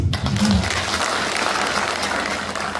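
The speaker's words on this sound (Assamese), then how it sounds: "মোদীজীৰ কাৰণে এটা হাত চাপৰি" A crowd at a felicitation ceremony for newly elected alliance representatives breaks into applause for Modi: a dense, steady burst of clapping lasting a few seconds.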